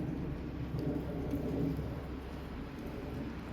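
Heavy rain pours steadily outside a house, a dense continuous hiss of falling water that stays even and fairly loud throughout.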